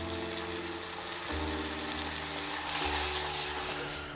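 A knob of butter sizzles in a pan of caramelizing turnips, a steady close frying hiss that swells slightly toward the end, with no voices.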